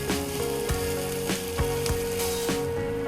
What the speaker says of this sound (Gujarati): થોડી વાર ડુંગળીને સંતળાવા દઈશું.